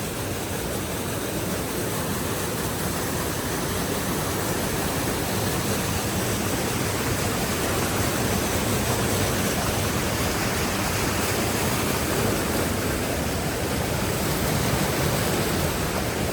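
A mountain stream rushes at night over slippery stones shifted by floodwater, making a steady, loud, broadband roar that holds unchanged throughout with no voices.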